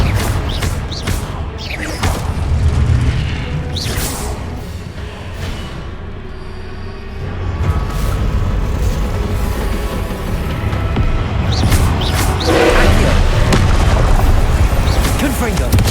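Confringo spell blasts in Hogwarts Legacy, loud booming explosions bursting in clusters at the start and again later, close and heavy over game ambience, with a voice talking in between.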